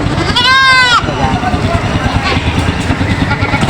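A goat bleats loudly once, a wavering cry close by, at a busy goat market, followed by a steady low engine rumble and crowd noise.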